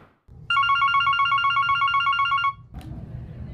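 A desk telephone at a daycare center rings with a fast electronic trill for about two seconds, then gives a click and soft handling noise as it stops.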